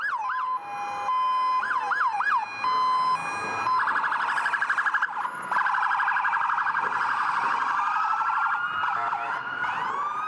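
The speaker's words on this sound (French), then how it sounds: "Depuis le 11 septembre, les sirènes n'ont plus jamais cessé de hurler." Police sirens wailing in Times Square, several overlapping electronic sirens cycling through yelps, wails and rapid warbles, loud and close against the street background.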